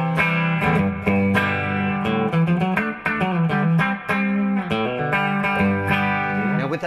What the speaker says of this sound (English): Switch to the treble pickup,